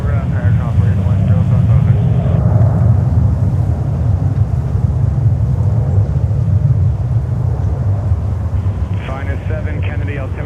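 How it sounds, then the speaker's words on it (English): Qatar Airways Boeing 777-300 jet at JFK, a loud steady roar of engine noise filling the whole span, with radio chatter and voices running over it. "Qatar 777-300 from Doha."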